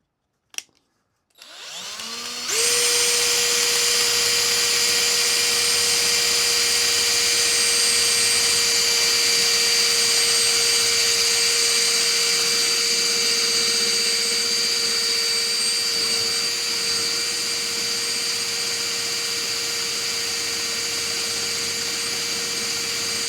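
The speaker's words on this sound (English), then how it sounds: "so let's drill our big hole." Power drill boring a big hole in a large USB hub housing, a couple of short clicks and then a loud, steady high-pitched whine that runs on unbroken for about twenty seconds.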